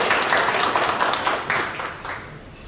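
An audience at a quality-competition award ceremony applauds a speaker, a steady spread of many hands clapping indoors that slowly thins and fades toward the end.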